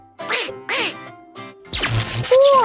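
A cartoon duck quacks in several short, nasal bursts, close and loud, followed by a splashy burst and a rising squeak in a children's animated show.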